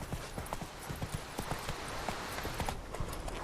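Hooves of Geralt's horse Roach clip-clop in a steady walking rhythm in The Witcher 3: Wild Hunt, fairly quiet and close, with no talking.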